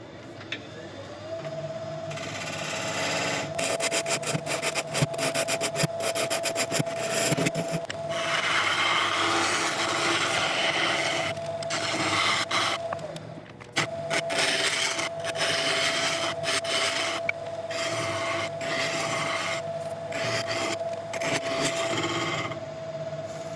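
A wood gouge cuts a spinning burl on a lathe, giving a steady scraping, rasping hiss with a constant motor whine beneath it, broken by short pauses and bursts as the tool is repositioned.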